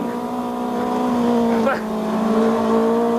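A Brisca stock car is held on the throttle around the track, its engine a loud close steady drone with a brief dip and flick around the turn, then pulling again, while a person talks over it.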